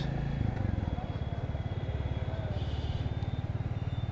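A Royal Enfield Bullet 350 thumps along a road in Bangladesh, its single-cylinder exhaust beating in a fast, even pulse close to the rider, with wind rush over the top.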